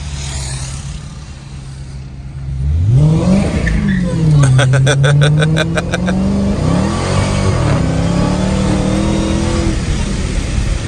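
A 2023 Dodge Challenger SRT Hellcat Redeye Widebody throttles hard through a corner, its supercharged V8 surging loudly into a sustained rising roar with brief tire chatter as the traction control intervenes, then holding a steady heavy drone close by.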